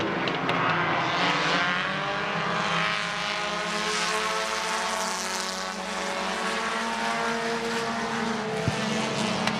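Drift race cars charging into turn 1 during a 2022 season-opening race, a loud sustained engine roar with shifting, rising and falling harmonic whines from several cars passing close.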